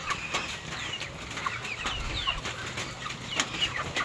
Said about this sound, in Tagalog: Ito po yung malalaking manok ah.